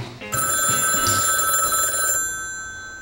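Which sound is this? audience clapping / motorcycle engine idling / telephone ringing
telephone ringing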